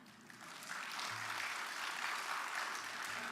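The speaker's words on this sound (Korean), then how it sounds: "여러분 이럴 때는 박수 치셔야 되는 거예요." Church congregation applauding during a Sunday worship sermon, a soft, diffuse wash of many hands heard from a distance, swelling slightly after the first second and holding steady with no voices over it.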